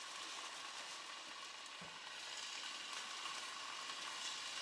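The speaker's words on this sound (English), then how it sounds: "I think you can hear it sizzling." Steak pieces sear in olive oil in a pan on high heat, giving off a faint, steady sizzling hiss that runs evenly throughout with no talking.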